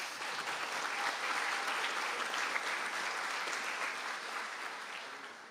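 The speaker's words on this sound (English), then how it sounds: "Perhaps we could give Anne-Marie a round of applause" An audience at a college conferring ceremony in Mayo gives a sustained round of applause for a graduate receiving a business certificate in absentia, dense steady clapping from many hands that tapers slightly at the end.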